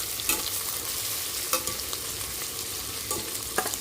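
Ginger and a spoonful of coriander powder fry in hot oil, giving a continuous crackling sizzle punctuated by a few spatula taps and scrapes, heard up close and without any talking.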